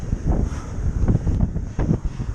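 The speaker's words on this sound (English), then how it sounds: "it's very windy." Strong gusty wind on King's Hill in Bude buffets the microphone with a constant low roar and rumbling bursts, no voices audible.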